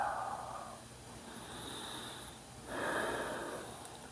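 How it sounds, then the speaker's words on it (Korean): Slow, steady breaths drawn in and let out during a beginner morning yoga session, close by and fairly soft, with one fuller exhale swelling near the end and no talking. "숨을 들어 마시면서 내쉬고 제자리 돌아옵니다"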